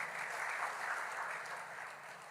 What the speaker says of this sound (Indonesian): Saya minta tepuk tangan untuk PPID seluruhnya.